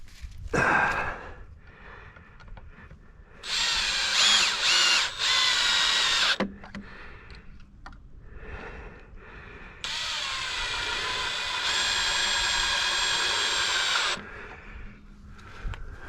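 A power drill drives screws into a wooden raised garden bed frame, two loud whirring bursts of about three and four seconds separated by quieter handling sounds and light breaths.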